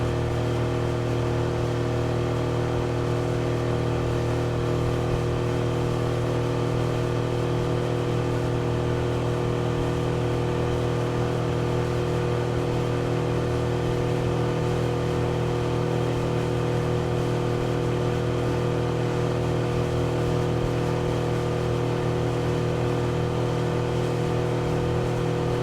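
A 2024 Suzuki DF25A outboard motor runs steadily at wide open throttle on a boat crossing choppy water, a loud, constant droning hum with no break and no voices.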